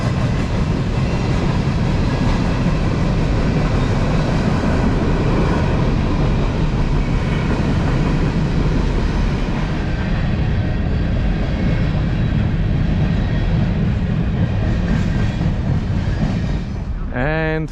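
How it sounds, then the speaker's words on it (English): A long train rumbles past up close, a loud, steady roar with rail clatter that holds for the whole stretch and fades slightly near the end. "I think there's a train coming as well, so I'll pause because they make a lot of sound,"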